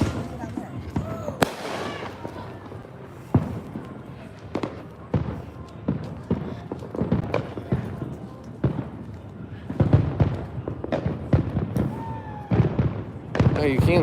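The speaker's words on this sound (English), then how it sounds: "So that's the city doing fireworks." City Fourth of July fireworks burst repeatedly in the distance, a string of sharp irregular pops and booms heard while people talk nearby.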